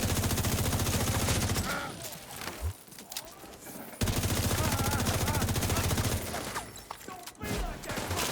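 Rapid bursts of automatic gunfire in a video game, loud and close, firing in sustained volleys that break off briefly, then resume with another long stretch of shots.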